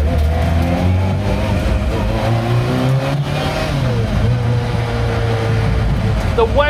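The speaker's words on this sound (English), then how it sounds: "But the engine sound, the Volumex supercharger is so close behind my ear," Inside the reborn Lancia Rally 037 Group B restomod, the four-cylinder Lampredi twin-cam with its Volumex supercharger just behind the seat gives a loud, close, steady drone with shifting pitch, and speech runs over it.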